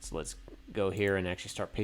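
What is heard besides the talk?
No everyday noises stand out.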